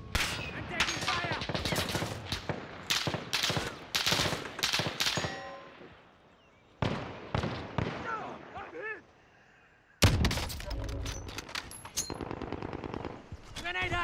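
Dense bursts of automatic gunfire and single shots from a Call of Duty: Warzone firefight, loud and close, coming in rapid volleys with short pauses and a fresh heavy burst near the end, with a player's voice over the shooting.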